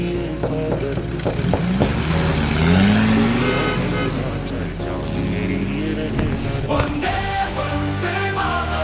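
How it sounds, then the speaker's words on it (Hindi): A car carrying a group of passengers on the way to a border rumbles steadily throughout, with voices and other sounds layered over the engine hum. "चलो गाड़ी में बैठो सभी।"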